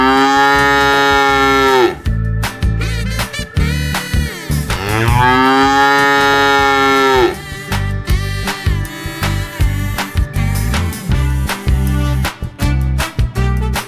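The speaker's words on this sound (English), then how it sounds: "a cow is a vertebrate animal" A cow moos loudly and close, two long drawn-out lows separated by a pause, followed by clattering farm noises.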